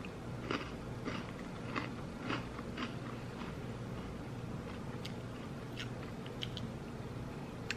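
Crunchy vanilla-flavored cereal with milk chewed close to the mic during a taste test, a steady run of soft crunching bites and mastication over about eight seconds, with no talking.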